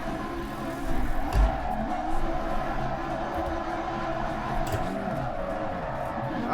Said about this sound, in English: I'm trying to figure out how to drift this fucking car.